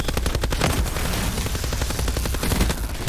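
Rapid, continuous automatic fire from the Hades light machine gun with a rapid-fire mod, shot from the hip in Black Ops 4, a dense unbroken burst of loud, close shots lasting the whole stretch.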